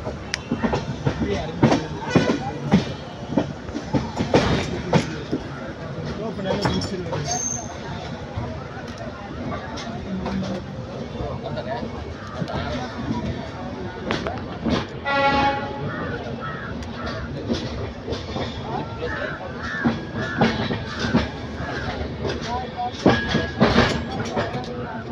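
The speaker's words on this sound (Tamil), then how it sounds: "வாங்க இந்த வண்டி ஸ்பீடு ரன்னிங் எவ்வளோ ஆகுதுன்னு பார்க்கலாம்." Passenger train running at speed on rails out of Erode, with steady rumbling rail noise and clattering throughout, some brief squeals and bird caws, and people talking nearby.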